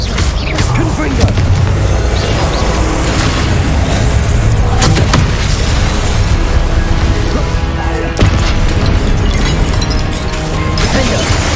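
Spell combat in Hogwarts Legacy with Confringo blasting explosions, loud booming crashes and bursts piled densely over a constant roar of battle, no quiet gaps.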